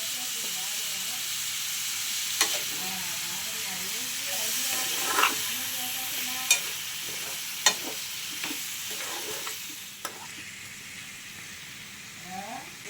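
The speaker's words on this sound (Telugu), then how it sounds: "ఇప్పుడు మూత పెట్టేసి చికెన్ ఐదు నిమిషాలు హై ఫ్లేమ్లో ఉడికించుకున్నాం" Gongura chicken cooking village-style over a high flame gives a steady sizzle and hiss of frying, broken by a few sharp clinks of a utensil against the pot, with no talking.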